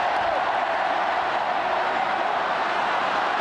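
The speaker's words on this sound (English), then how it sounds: "Listen to the Mayo following right now. They might be behind by a point, but they're enjoying themselves." Mayo supporters at the 1989 All Ireland football final against Cork, a huge stadium crowd roaring and cheering in a dense, loud, unbroken wash with no single voice standing out.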